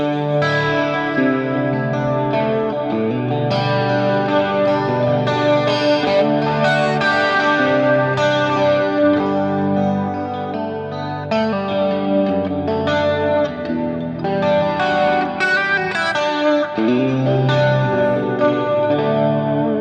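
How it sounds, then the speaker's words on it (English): Electric guitar chords played through a Fractal FM3 with a flanger running in parallel, producing a loud, continuous sweeping, swirling tone with sustained chords and melodic lines throughout, no talk. "And this is the flange in parallel."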